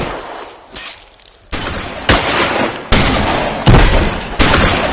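Bursts of heavy gunfire crack out in the L.A. Noire video game, loud repeated volleys arriving in sharp onsets about every second after a quieter opening.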